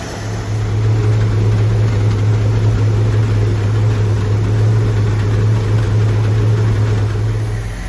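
A 1969 Dodge Dart GT convertible, running on fresh Sunoco 110 fuel, idles smoothly and loudly at close range with a deep steady hum and no voices over it.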